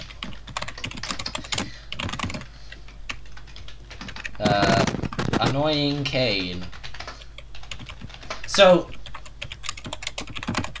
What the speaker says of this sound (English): what are you typing? Who are you typing to?